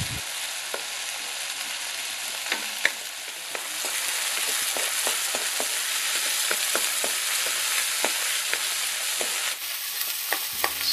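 Tomatoes sautéing in oil in a pan, cooked for a fish sarciado dish: a steady broadband sizzle runs throughout, with scattered soft stirring clicks and spatters, close and moderately loud, no voices.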